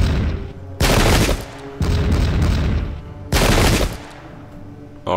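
Volleys of musket fire from massed infantry in Pike and Shot Campaigns, a 17th-century battle game set in Bohemia. Three loud, dense bursts of crackling shots arrive in waves, each lasting about half a second to a second, with a rumbling battlefield bed between them.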